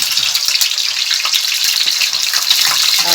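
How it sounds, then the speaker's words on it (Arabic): Chicken pieces fry in hot oil with a dense, loud, continuous sizzle and crackle, close by and without talk. "الشيف احمد هيحمر بقى الفراخ"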